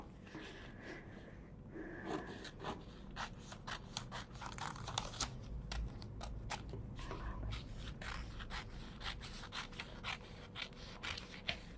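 Scissors cut through a paper dress pattern in a repeated run of close, crisp snips and slicing scrapes that keep going throughout with no talking.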